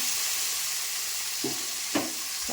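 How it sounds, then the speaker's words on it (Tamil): Whole tomatoes sautéing in oil, a soft continuous sizzle with two short stirring scrapes partway through, close and fairly quiet, no talking. "எண்ணெய் ஊற்றி நல்லா வதக்கி இருக்கிறேன்"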